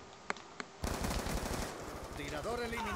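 Rapid automatic gunfire from an assault rifle in the Black Ops 2 shooter on the Cove island map, a burst of loud, dense shots after two single cracks, with electronic game tones rising near the end.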